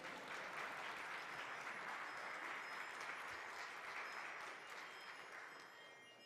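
A church congregation claps at a Sunday service, a steady wash of applause that holds evenly and then gradually tapers toward the end, with no talking over it.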